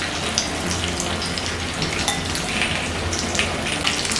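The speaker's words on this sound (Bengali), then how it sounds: "এবার বেগুনগুলোকে উল্টে পাল্টে লাল লাল করে ভেজে নিতে হবে।" Eggplant pieces coated in egg mixture fry in hot oil in a pan, giving a loud, dense and continuous crackling sizzle like steady rain, with no voices.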